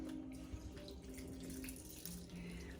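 Water runs steadily from a tap or is poured into a dish of pigeon peas and rice, a continuous faint splashing flow with no talking.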